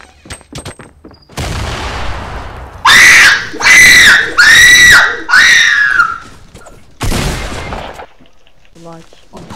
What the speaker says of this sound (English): There's shots over here.